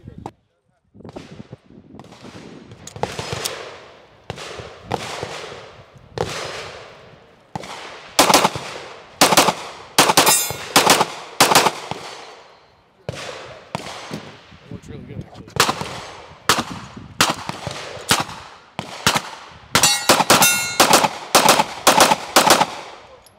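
Rapid pistol gunshots from a handgun fitted with a PR drop-in trigger at an outdoor shooting gathering, sharp loud cracks fired in fast bursts and strings with short pauses between, with faint talk in the gaps.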